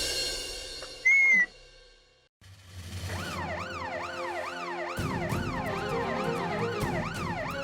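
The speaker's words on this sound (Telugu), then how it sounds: "ఇదైతే పోలీస్ సైరన్ శబ్దంలాగా ఉంది" Wailing police-style siren sounding outside a house during Diwali, rising and falling in steady sweeps that grow louder and layer over each other after a brief quiet gap, with no talking.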